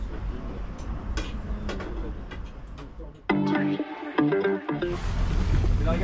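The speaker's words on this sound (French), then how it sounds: "Je vous laisse avec le port de Honfleur." Harbour ambience at the port of Honfleur, with scattered clicks and knocks, a brief musical or tonal passage midway, and a steady broadband wash of water and distant activity throughout.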